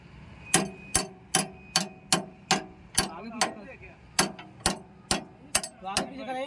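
A small hammer strikes the adjustment plate on the floating sub rotary head of a REL C600H drill machine during repair: about a dozen sharp, close metallic knocks at a fairly even pace of roughly two per second.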